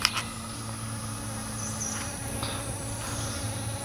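A handful of surviving honey bees buzz faintly around a hive overrun by small hive beetle larvae, a thin steady hum under a low background drone.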